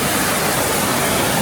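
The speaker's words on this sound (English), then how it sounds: "And here's that waterfall right there." Aquarium waterfall pours in a loud, steady broadband rush, unbroken and close, filling the whole moment with even white-noise spray.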